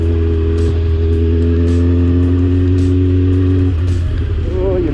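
Kawasaki Ninja ZX 600 sport motorcycle engine idling low and steady at very low revs, a loud continuous hum close by, with a slight shift near the end.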